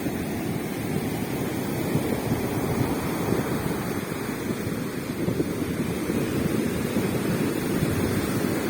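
Sea waves surge and wash continuously, loud and close, with steady roaring surf and wind buffeting the microphone throughout, and no voices.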